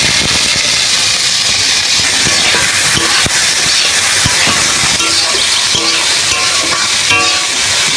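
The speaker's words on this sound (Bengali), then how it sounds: "যাতে পেঁয়াজটা নরম হয়ে তারপরে ভাজা ভাজা হয়ে যায়।" Onions fry in a pan with a loud, steady sizzle and hiss, stirred now and then with scraping clicks, close and continuous.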